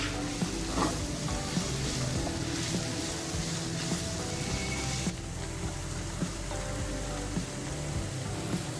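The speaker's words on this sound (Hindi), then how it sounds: "थोड़ी सी हरी मिर्च ऐड करेंगे और ये जो है ग्रीन ऑनियन ये ऐड करके मिक्स करेंगे।" Green chili and green onion stir-frying in a pan for a samosa filling, a steady close sizzle with occasional stirring scrapes running throughout.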